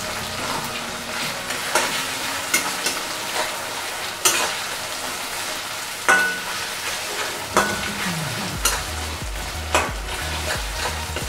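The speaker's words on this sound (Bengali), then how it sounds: "টমেটো একটু নরম করতে হবে ভেজে।" Chopped tomato fries in a pan with pointed gourd and prawns, a steady sizzle broken by repeated stirring scrapes and clinks of the spoon against the pan, close and moderately loud with no talking.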